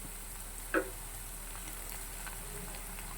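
Onions, green chilies and tomatoes fry in a pan with a steady low sizzle, broken by one brief clink of a utensil early on; no voices.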